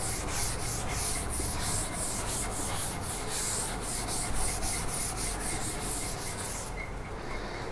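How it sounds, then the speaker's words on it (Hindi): An object is rubbed to build up a static charge, giving a steady, close, scratchy friction sound of fast strokes that continues alone for several seconds. "इसको रब कर देते हैं।"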